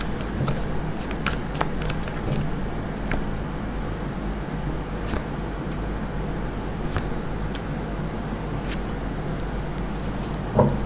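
Tarot cards being shuffled and drawn from a deck, a continuous soft papery riffle and rustle with brief crisp snaps as cards slide out and are laid down, close by, no talking.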